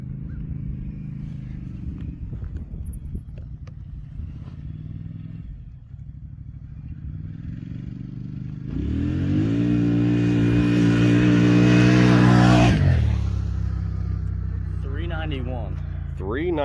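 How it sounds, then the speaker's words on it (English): Polaris off-road vehicle on Kenda Bear Claw tires running a time trial, its engine idling and rumbling close by, then surging loudly into a hard acceleration with rising revs before easing off; voices talk over the engine. "now we're going to do a time trials with these Kenda Bear Claws"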